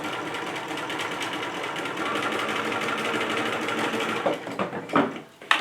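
A sewing machine stitches bias-cut fabric for a Valentine's Day bag, running in a fast, steady close whir before slowing into a few short, uneven bursts and stopping.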